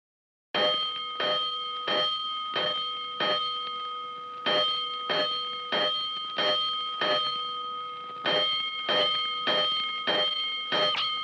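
A bright fire alarm bell strikes in quick repeated bursts, about a dozen clangs in steady groups, loud and close, with a short pause between runs.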